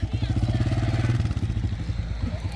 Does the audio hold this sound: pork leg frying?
no